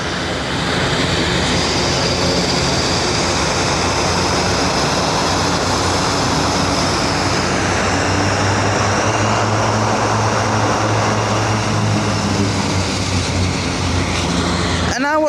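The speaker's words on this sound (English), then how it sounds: "A Binter aircraft just pushing back." Binter airliner pushing back at Madeira airport on its own reverse thrust, a loud, continuous roaring engine drone with a low hum underneath, holding steady close by for the full stretch.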